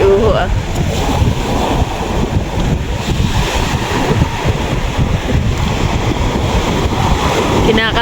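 Heavy ocean surf crashes and churns continuously, mixed with strong wind buffeting the microphone throughout.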